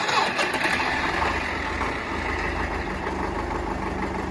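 An MTZ 892 tractor engine catches and settles into a loud, rough, steady diesel idle close by, its low throb continuous throughout with a few faint clicks at the start.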